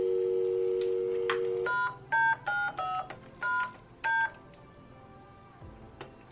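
A 90s Barbie toy phone plays a steady tone, then a quick string of about six beeping dial tones in bursts, clear and close in a quiet room.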